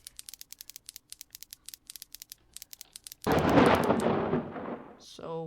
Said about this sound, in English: So we got a lightning strike and it made a little fire.